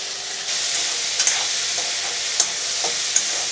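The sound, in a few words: onion and tomato frying in pan after urad dal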